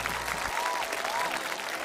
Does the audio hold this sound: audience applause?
yes